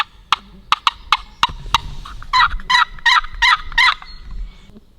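A wooden turkey box call is worked on a hunt to imitate a wild turkey, first a string of sharp separate yelps, then a quicker run of raspy cutting notes, close and loud with no talk.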